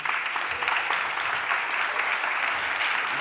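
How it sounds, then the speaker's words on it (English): Applause at a Philadelphia City Council meeting honouring a high school champion team, dense steady clapping from a crowd filling the room, fairly loud and continuous without talk. "Can we give these young men a round of applause, please?"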